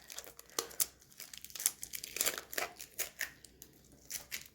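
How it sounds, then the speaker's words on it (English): Tape pulled and torn to seal the lid of a paint container, a quiet close run of crinkling rips and sticky peeling bursts in an irregular rhythm, with no talk. "Now tape your lid and be careful not to spill any."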